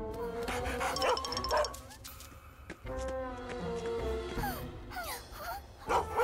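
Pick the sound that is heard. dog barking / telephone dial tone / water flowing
dog barking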